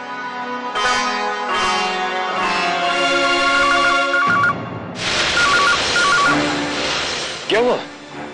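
A telephone rings in a domestic drama scene, repeated electronic ring tones in short bursts under and between spoken dialogue, fairly loud and close.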